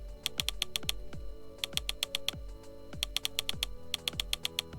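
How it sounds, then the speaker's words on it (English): Rapid bursts of crisp electronic clicks repeat in regular groups, each run paired with low thumps, like stepping quickly through Fire TV on-screen menu items. "they make that horrible clicking sound when you're scrolling through the menus"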